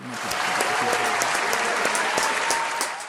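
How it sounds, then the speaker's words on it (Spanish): Audience applause fills the room, a steady wash of many hands clapping at even loudness throughout, with no voices standing out. "quiero que la gente aquí presente le dé un aplauso"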